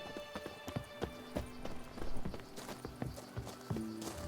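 Hooves of Roach, the horse in The Witcher 3: Blood and Wine, clip-clopping in a quick, steady galloping rhythm up close, with occasional soft game sounds underneath and no talk.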